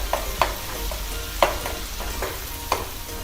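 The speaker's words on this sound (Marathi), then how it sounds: "यामध्ये जो आपण कांदा घातलाय तो कच्चा आहे, त्यामुळे 2 मिनटं चांगला परतून घ्यायचा आहे मसाला." Onion masala for stuffed brinjal sizzles in a pan, a steady fry broken by several sharp scrapes and taps of a spoon stirring it, close and alone.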